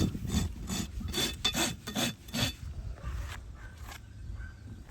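Farrier rasping the hoof of a Tennessee Walker horse after foaling, a close, rhythmic series of coarse scraping strokes, about eight quick rasps followed by lighter, softer passes.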